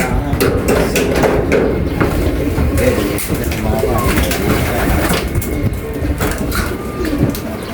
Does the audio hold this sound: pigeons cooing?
yes